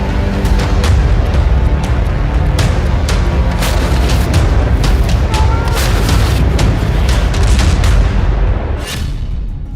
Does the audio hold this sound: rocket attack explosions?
yes